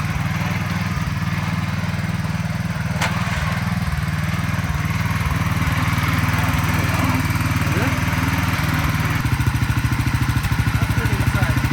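A 1967 Sears Super 12 garden tractor engine runs loudly and close by, with a steady, throbbing mechanical drone that shifts pitch near the end, and people talking faintly under it.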